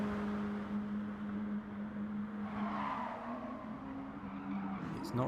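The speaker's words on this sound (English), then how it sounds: "Hear the supercharger whining on the Cooper S as they come onto the long straight" Supercharger whine from a Mini Cooper S in GT Sport, racing in a hot hatch championship onto a long straight: a steady, sustained mechanical whine over engine roar, rising in pitch near the end as other cars pass.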